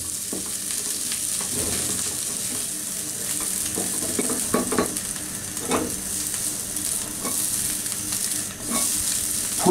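Cauliflower and carrots fry over high heat in a pan for chicken fried rice, giving a steady loud sizzle with occasional stirring scrapes and clinks, and no voices.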